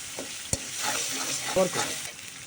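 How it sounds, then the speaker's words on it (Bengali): Spices for a jackfruit kofta curry fry and sizzle in a pan under steady stirring, with two sharp utensil clinks against the pan amid the continuous close crackle. "ভালো করে কষাই নিলে একদম মশলার কাঁচা গন্ধটা চলে যায়"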